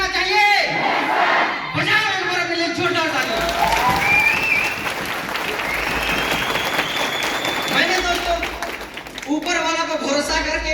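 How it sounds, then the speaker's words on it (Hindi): Loud, dense applause and cheering from a large audience at a motivational business gathering, rolling continuously for several seconds with shouts rising through it and a voice speaking at the start and end. "बजाओ एक बार अपने लिए जोरदार ताली।"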